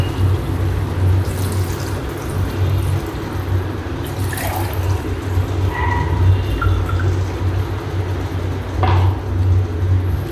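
Water is poured into a pot of masala while making plain rice biryani, a steady splashing pour with a few drips and metallic clinks from the vessel.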